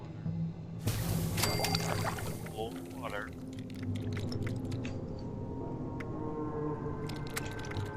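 Crafting boiled water in the Fallout 76 video game: a sudden watery splash and pouring sound starts up, then trails off into soft bubbling and dripping over a quiet background.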